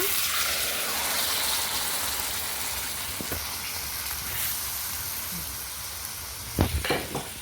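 Cauliflower frying in butter in a pan on the stove, a steady close sizzle and crackle throughout, with a few clinks of stirring near the end.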